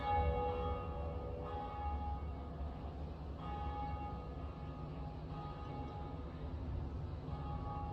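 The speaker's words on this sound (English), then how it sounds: "I ring the bell" Dark Souls Remastered plays a bell ringing out as a sustained, resonant chime over a dense, rumbling game backdrop, with repeated strikes blending into a long ringing wash.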